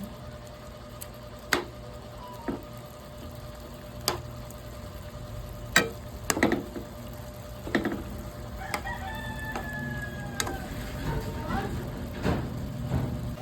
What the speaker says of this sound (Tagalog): Hayaan lang natin kumulo siya hanggang sa lumambot siya.